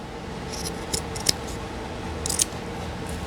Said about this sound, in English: I'm just going to cut some of it off so it won't be as bulky